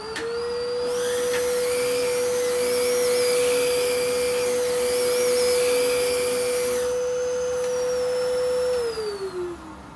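A Filter Queen vacuum cleaner runs steadily on carpet while picking up sand, its loud constant motor whine holding pitch for several seconds before winding down near the end.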